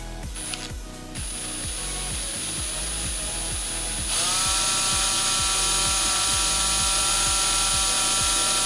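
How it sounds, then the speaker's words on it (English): A power drill turns slowly as its bit bores into a pinball playfield, a steady high motor whine over a rhythmic grinding rasp that steps up louder partway through. "you've got your drill really going slowly"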